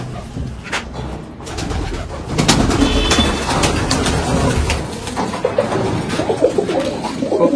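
Many pigeons in a loft coo in overlapping, steady murmurs, close and fairly loud, with occasional wing flutters and shuffling among the birds.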